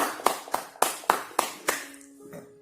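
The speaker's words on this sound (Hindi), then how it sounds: "सभी तालियां बजाइए।" At a spiritual music program, an audience claps in about six crisp, evenly spaced claps that sound close, then the clapping fades and a faint sustained tone remains.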